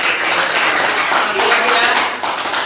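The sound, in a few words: class clapping hands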